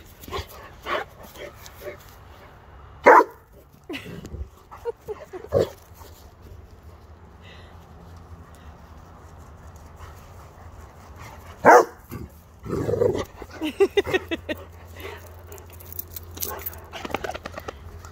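A Rhodesian ridgeback dog barks in a few sharp, separate bursts with low growling between them, close by, while a person talks softly to it.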